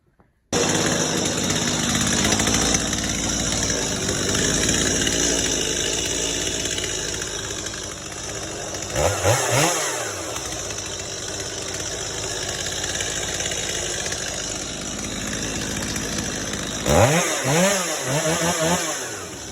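A chainsaw engine runs steadily near the microphone, idling with a continuous buzzing drone, and is blipped twice with brief revving bursts partway through and near the end; no one talks.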